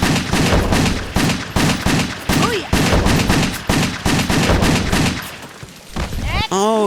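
Rapid bursts of video game gunfire on a wet-themed level, firing in repeated volleys that fill most of the stretch, loud and close, with brief gaps and a ringing effect near the end.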